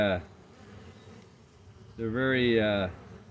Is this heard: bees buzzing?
yes